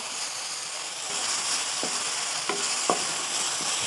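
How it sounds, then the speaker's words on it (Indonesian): Spice paste for urap sautés in a pan, a constant bright sizzle with a few light scraping clicks of a spatula stirring, close and unaccompanied by talk. "Nah, sekarang tumis bumbunya ya teman-teman. Tumis sampai bau harumnya keluar."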